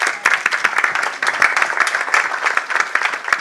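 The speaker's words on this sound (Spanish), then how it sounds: "Por favor, un aplauso." Sustained audience applause at a Spanish-language literary debate event, dense and steady clapping from a crowd with no talking over it.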